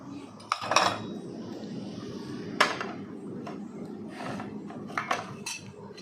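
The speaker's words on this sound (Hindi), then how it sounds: "बर्तन पहले किचन में रख देती हूँ।" Dishes and cutlery being put away in a home kitchen, with intermittent clattering and clinking of pots, plates and utensils set down close by over a steady low background.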